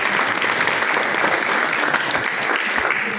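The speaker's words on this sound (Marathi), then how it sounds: "सर्वांनी टाळ्या वाजवायच्या आहेत." An audience claps steadily and densely throughout at a school retirement felicitation ceremony, a close, continuous wash of applause with no talk over it.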